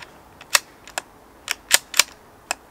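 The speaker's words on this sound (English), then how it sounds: "Bolt travel is lovely and short," CZ 457 .22 rimfire rifle bolt being worked, a series of sharp metallic clicks and clacks, close and crisp, spaced irregularly over a few seconds with no talking.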